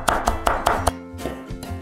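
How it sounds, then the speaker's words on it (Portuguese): Knife chopping fresh parsley finely on a cutting board: a run of sharp, close, rhythmic taps, about five quick strikes, then softer, sparser cuts trailing off. "E agora a gente vai picar bem essa salsinha"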